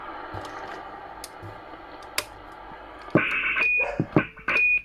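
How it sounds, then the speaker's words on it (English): A Cobra 148 GTL-DX CB radio hisses quietly, then gives two bursts of loud static, each ending in a short, high roger beep, heard close up with no speech. "Roger beep is on the switch in the back"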